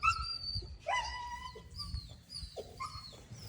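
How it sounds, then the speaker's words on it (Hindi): A dog on a farm gives short whimpering yips and whiny barks in a few bursts, moderately near over low background rumble, with no talking. "डायमंड इसी वजह से कालू भौंक रहा है कि गुलाबों उससे क्यों मिल रही है।"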